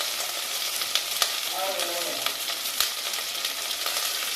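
Tomatoes and onions fry in a pan with a steady close sizzle, punctuated by a few sharp clicks and scrapes as they are stirred, and a brief faint voice in the background.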